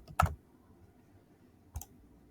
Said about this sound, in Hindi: आप लोगों को कीबोर्ड से आवाज़ भी आ रही होगी